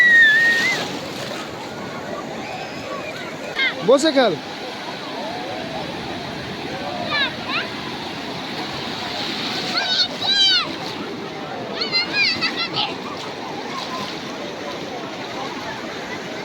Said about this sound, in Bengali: ঢেউটা আসছে ঢেউটা আসছে